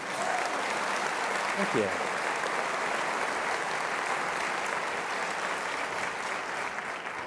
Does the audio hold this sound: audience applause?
yes